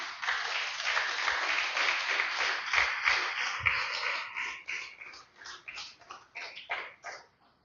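Worshippers in a church applaud for several seconds. The clapping is dense at first, then thins into scattered, uneven claps before it fades out.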